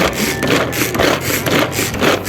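Ginger, garlic, onion and seeded green chili being ground to a paste for a broth: a continuous, rhythmic rasping and scraping grind that pulses steadily and closely, with no voices.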